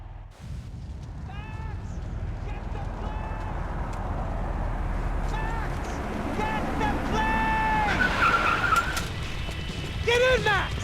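Car engine and tyres skidding during a frantic in-game getaway in Max Payne 3, a steady driving roar throughout with tyre squeals and chirps rising near the end, mixed with game music and shouted dialogue.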